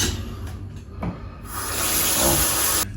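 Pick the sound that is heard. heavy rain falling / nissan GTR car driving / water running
water running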